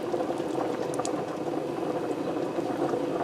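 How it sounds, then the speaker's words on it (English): Olive oil goes into a preheated Copper Chef XL pan and sizzles and bubbles in a steady, close, fairly loud crackle, with a few faint metallic ticks. "I'm going to start out by adding a little bit of olive oil in here"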